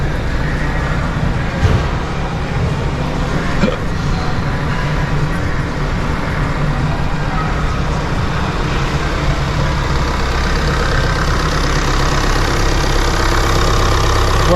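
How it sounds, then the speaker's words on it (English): Audi A5 (F5) diesel engine idling during a gearbox oil change, a steady, close, low rumbling hum that holds at an even level throughout with no revving. "Leave the engine on and let it idle."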